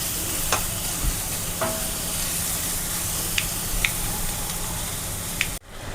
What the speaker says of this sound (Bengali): তারপর দিয়ে দিয়েছি পেঁয়াজ কুচি, আদা কুচি, কাঁচা লঙ্কা কুচি।